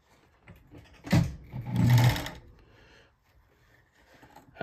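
A Bonis fur sewing machine stitches beaver fur gauntlets in two short motor bursts, the second longer, separated and followed by quiet moments, close and fairly loud.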